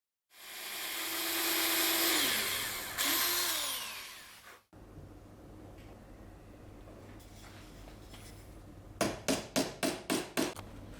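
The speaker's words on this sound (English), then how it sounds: "Align the blade to the surface and cut the dowel from the side." Japanese flush cut saw working through a wooden dowel: a loud rasping cut for a few seconds, a short second burst, then quiet and a quick series of about six sharp strokes near the end.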